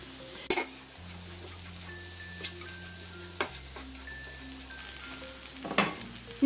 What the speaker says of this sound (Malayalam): ഈ അരിഞ്ഞു വെച്ചിരിക്കുന്ന മല്ലിയില ചേർത്ത് ഇതൊന്ന് ഇളക്കി കൊടുക്കാം